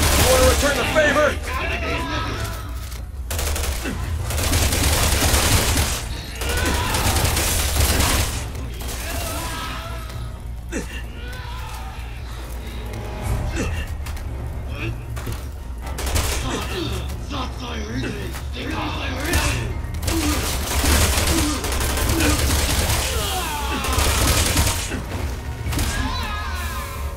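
Heavy, sustained gunfire in the video game Resident Evil 6, with dense bursts of shots, crashes and thuds rattling on through combat, and occasional voices under the din.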